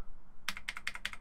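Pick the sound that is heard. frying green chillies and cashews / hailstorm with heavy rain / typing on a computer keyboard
typing on a computer keyboard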